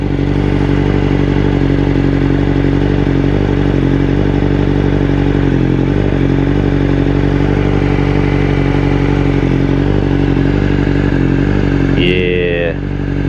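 A Honda FireBlade motorcycle, being ridden for the first time after a wreck, idles steadily and loudly up close, and a brief sharper burst near the end sounds like a short rev.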